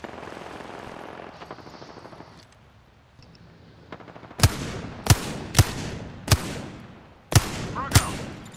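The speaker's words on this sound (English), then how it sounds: "Teammate shooting somebody." Gunfire from teammates in Apex Legends on the Olympus map, a quiet stretch of game ambience broken by a volley of six sharp, loud shots spaced unevenly over the last few seconds.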